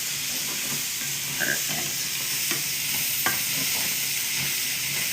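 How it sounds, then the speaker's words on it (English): Spam fried rice stirred in a hot pan, a steady broad sizzle running throughout with scattered scraping clicks from the spoon, close and fairly loud, and a brief word spoken near the end. "Let me give this a good stir."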